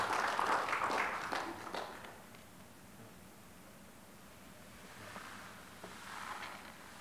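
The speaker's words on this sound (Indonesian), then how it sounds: "Mari kita sambut dengan tepuk tangan." Guests at a wedding ceremony applaud in two soft, distant swells of clapping, the first fading after a couple of seconds and a quieter wave rising again near the end, with hushed room noise between.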